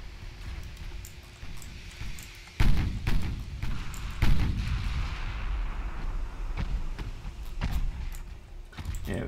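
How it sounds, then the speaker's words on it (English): Heavy 15-inch naval guns firing in a battleship sea battle in Ultimate Admiral Dreadnoughts, deep booming salvos with rolling thunder, several big reports spaced a few seconds apart over steady background rumble and smaller shots. "we're just going to annihilate your cruisers with 15-inch guns"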